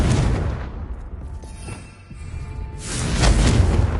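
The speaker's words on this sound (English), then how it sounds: "Confringo." Confringo fire blast spell cast in Hogwarts Legacy: a loud booming burst opens, fades to a thinner ringing tail, then a second heavy roaring blast swells up near the end.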